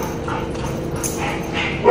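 A young pit bull mix dog lets out a short yip or bark near the end of a steady background of room noise, close and brief.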